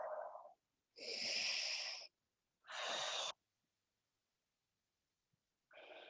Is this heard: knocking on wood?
no